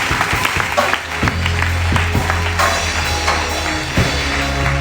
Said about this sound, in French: On peut acclamer pour Jésus.